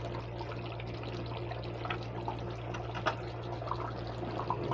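Soft bubbling and simmering of rice and dal boiling in a pot on the stove, faint irregular pops over a low steady hum.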